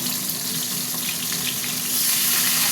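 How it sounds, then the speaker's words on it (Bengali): Fish pieces fry in oil, giving a dense, even hiss of sizzling that stays close and steady throughout and swells slightly toward the end. "এই মাছটা ভাজা হতে থাক।"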